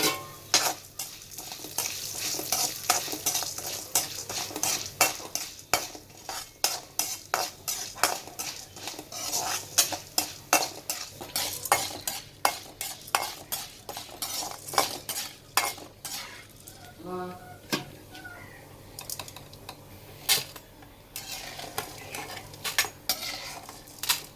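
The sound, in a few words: urad dal and chana dal roasting and being stirred in a pan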